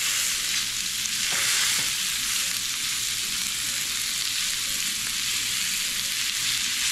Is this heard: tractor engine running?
no